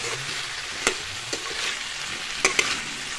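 Cauliflower and potato pieces fry in a pan for a fish curry, giving a steady broadband sizzle with a few sharp clicks and scrapes of stirring near the start and end, no voices.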